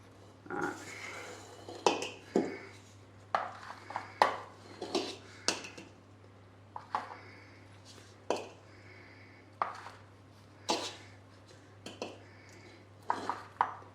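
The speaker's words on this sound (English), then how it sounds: "that's why I'm shaking the spoon off" A spoon is tapped and shaken off over shower steamer molds, giving a steady run of about a dozen short, bright clinks and knocks spaced a second or so apart, close and clear against a low hum.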